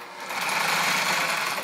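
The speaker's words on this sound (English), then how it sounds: "This is an industrial portable sewing machine." A Reliable Barracuda industrial portable sewing machine whirs with a fast, even, buzzing stitch, running loud and close for a brief continuous burst with no talking.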